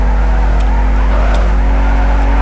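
A car drifting in the racing video game NFS Underground 2, with a loud, steady engine drone and faint tyre squeals, heard alone without talk.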